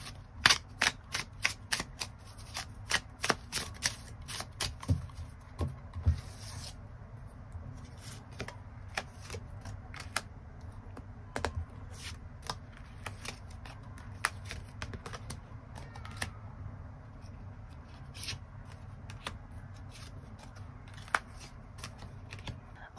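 Tarot cards are shuffled and drawn in a quiet room, giving a dense run of sharp card snaps and flicks early on that thins into scattered soft taps and slides.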